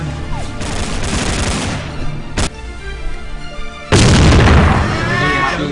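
Explosion hitting a player in a competitive Xshot Online shooter match: a sharp blast cracks near the middle, then a heavy, loud burst of explosive noise erupts and sustains, amid dense game-fire clatter.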